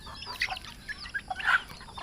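Chickens clucking close by in short, scattered bursts, a few soft clucks followed by a louder squawky cluster.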